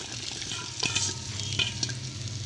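Okra frying in ghee in a kadai over low heat, a steady close sizzle with soft stirring scrapes and a couple of brighter crackling bursts.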